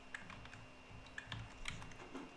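Soft clicks of typing on a computer keyboard tap out an irregular rhythm, faint and close, over a steady low hum.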